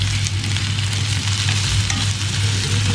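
Turmeric-marinated banana pieces fry in a pan with a steady, loud sizzle, while occasional stirring scrapes sound close by.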